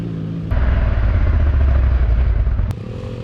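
A KTM Adventure 390 motorcycle rides over rough offroad terrain, its engine a loud, close, steady rumble mixed with clattering. The engine surges at about half a second and drops back near the end.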